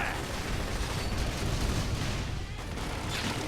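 In Xenoblade Chronicles X, a Fire Carnival attack sets off a dense, continuous roar of explosive bursts and crackling blasts that stays loud throughout, with game voices partly blended in.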